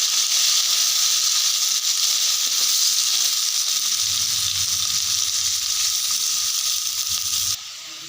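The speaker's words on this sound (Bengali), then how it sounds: "পেঁয়াজগুলো দিয়ে দেবো, দিয়ে ভালোভাবে নাড়াচাড়া করে নেব।" Onions with green chillies sizzle in hot oil as they are stirred in a pan, a steady close hiss running throughout, with a low rumble entering midway and the sizzle dropping slightly near the end.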